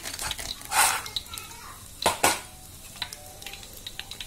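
Peanuts are dropped into hot oil in a pan and start frying, with a couple of louder splashing bursts and clatter against a soft sizzle, while a voice talks in the background.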